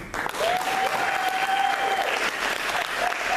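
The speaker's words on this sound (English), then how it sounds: "give it up for our panel" A meeting audience gives a panel steady applause, dense clapping throughout with a faint background voice tone running beneath it.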